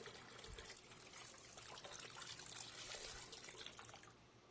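Half a litre of water pours steadily into a mixture during the preparation of kushta faulad, a continuous trickling, splashing flow that holds for several seconds and then tapers off, heard alone.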